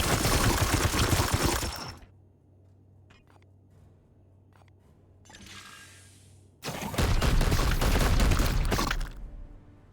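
Gunfire from basic shots in the turn-based game Warhammer 40,000: Chaos Gate - Daemonhunters, two loud dense bursts of rapid firing separated by a quieter stretch with a few sharp clicks and a brief swelling whoosh.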